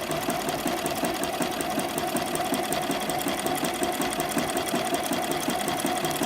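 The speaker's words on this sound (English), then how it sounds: "I'm trying to sew just along the edge of the elastic, but not all the way over into the picots" A sewing machine stitches steadily along the edge of stretched picot-edge elastic on fabric, a close, continuous rapid whirring hum that holds an even pace for the whole stretch with no talking.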